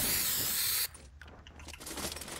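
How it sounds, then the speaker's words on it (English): A spray can hisses loudly and steadily onto a poster in a video game for nearly a second, then cuts off abruptly into quieter game ambience. "but whatever, I sprayed on it"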